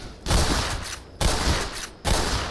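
Gunfire from a first-person shooter video game, three loud bursts of rapid shots separated by short gaps, close and dominant with no talk.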